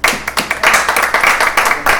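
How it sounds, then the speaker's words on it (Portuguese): A studio audience breaks into clapping on cue for a couple arriving as guests on a talk show, a burst of loud, uneven hand claps with short gaps that fills the whole moment, no voices over it. "Palmas."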